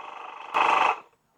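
The portable air compressor of an AOOYSORA car battery jump starter buzzes up loudly for about half a second and then cuts off, following a softer tonal hum, while inflating a basketball to 8 psi.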